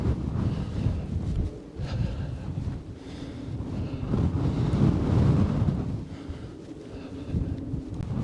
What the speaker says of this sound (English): I'm on top of the hill now and it is blowing quite a bit